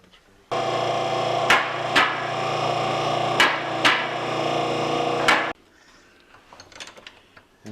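Sharp metal taps struck on a Trans Am during an LS swap while shifter parts are removed, a few distinct hard hits over a steady loud hum from about half a second to five and a half seconds, then a quieter, patchy tail.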